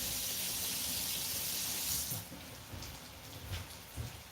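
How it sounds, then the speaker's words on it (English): Tap water runs steadily into a kitchen sink as a finger is held under the stream, a broad continuous splashing hiss that eases slightly partway through, with no voices. "I'm gonna go run some water over my finger just to be safe here"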